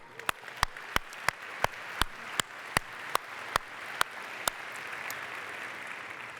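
Sparse, evenly spaced claps ring out at an opening-night tech conference gathering, about a dozen sharp isolated hits at a steady pace over a quiet room murmur, fading out near the end.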